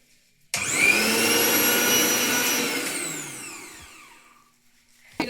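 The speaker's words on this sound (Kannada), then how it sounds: "ಏನೋ ಹೆಂಗ್ ಬಂತು ಸೌಂಡು ಮಿಕ್ಸಿದು?" A new lightweight mixer grinder switched on, its motor snapping to a loud high whine that holds steady, then winds down gradually over a couple of seconds until it stops, heard close with no talk.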